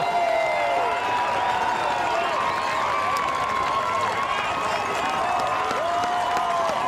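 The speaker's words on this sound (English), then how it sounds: "Listen to the crowd." A baseball crowd roars after a strikeout, a steady, loud wash of cheering and whistles that holds throughout.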